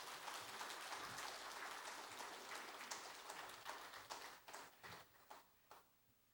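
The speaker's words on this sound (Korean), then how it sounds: "큰 박수로 환영하시고" A church congregation claps to welcome the pastor at a Korean afternoon service, a faint, distant patter that thins toward the end into a few scattered, separate claps.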